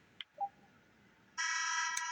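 A loud, sustained buzzer sounds the end of a quarter in the NBA 2K23 basketball video game, following a few faint game blips.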